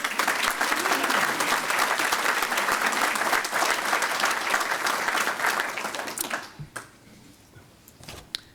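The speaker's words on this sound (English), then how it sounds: "give a round of applause for our economic development" Dense audience applause fills a hall during a city's State of the City address, steady and loud for about six seconds before thinning out into scattered claps and quiet.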